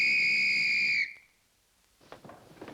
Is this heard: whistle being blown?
yes